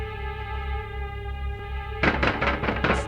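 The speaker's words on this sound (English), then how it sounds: "someone's banging on her door" Several loud, heavy thumps strike in quick succession over a steady low hum, like a fist pounding hard on a door.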